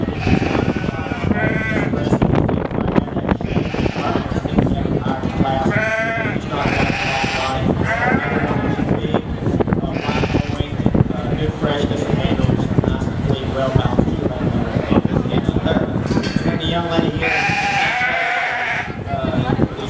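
Many sheep bleat loudly and repeatedly at a market lamb show, their overlapping cries filling the arena alongside a person talking.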